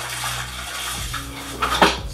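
Water sloshes and splashes as freshly grouted tile is washed down with a wet sponge and bucket, with light scraping and dripping sounds close by.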